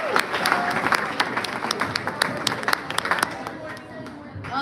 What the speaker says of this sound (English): So please clap it up for them